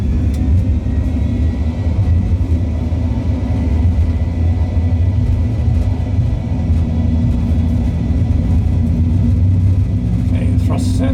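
Boeing 737-800 cockpit simulator engines at takeoff thrust on a runway: a loud, steady low roar and rumble that holds through the whole stretch, with cockpit voices briefly heard over it.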